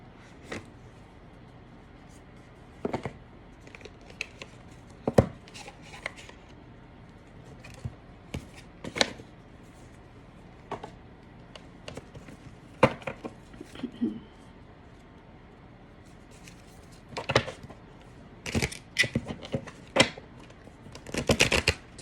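An oracle card deck, the Woodland Wardens Oracle, shuffled by hand in repeated short papery riffles and slaps, some louder bursts near the end, close and alone without talk.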